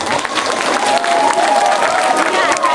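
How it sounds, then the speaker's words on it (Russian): An audience applauds student performers at a school arts festival for fourth to sixth graders, a loud continuous wash of clapping with some crowd voices mixed in throughout. "И мы сейчас еще раз их поздравим аплодисментами."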